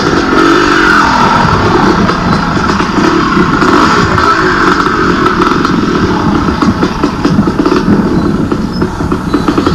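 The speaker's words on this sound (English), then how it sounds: "Smooth operating bike." A 1987 enduro motorcycle rides over bumps and ruts, its engine droning steadily and close with a rough, rattling texture from the terrain throughout.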